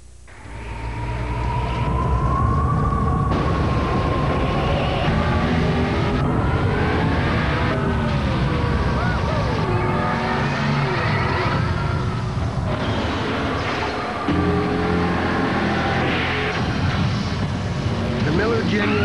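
A Miller Genuine Draft Rusty Wallace stock car roars past at speed, its engine note rising and falling in long loud sweeps, with a voice talking over the racing noise.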